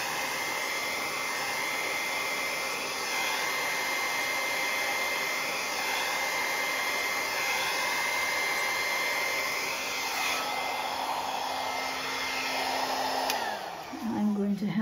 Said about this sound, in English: get a different blow dryer that has a cool setting